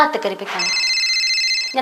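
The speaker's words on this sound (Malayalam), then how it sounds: "ആ ഫോൺ എടുക്കുക" A telephone rings with a steady electronic trill lasting about a second, following a brief stretch of someone talking.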